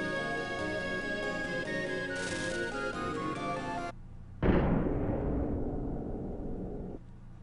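In the Secret of Mana video game, a cannon fires with a sudden loud boom that launches the player. It cuts through game music and then trails off into a fading rumble.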